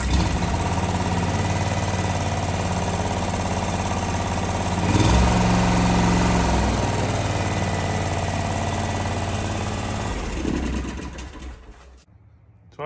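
A small engine on an Ariens Max Zoom 60-inch zero-turn lawnmower runs loud and steady on a chilly day after a little choke, its note shifting partway through before it winds down and cuts off near the end.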